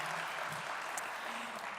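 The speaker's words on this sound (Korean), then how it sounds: "우리 다 같이 하나님께 영광의 박수를 올려드립니다." A church congregation at a Sunday worship service applauds together, a dense, steady wash of many hands clapping that holds at an even level throughout without letting up.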